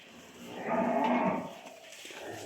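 A Holstein Friesian dairy cow, a high-yield milker, lets out a single long, fairly close moo that swells in the middle and then fades, with no talk.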